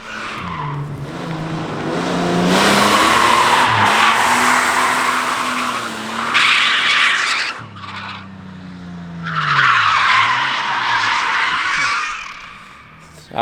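A Nissan S13 drifting, its engine revving and falling in pitch as the tires squeal and skid loudly in long sweeps, fading briefly before a second screeching slide.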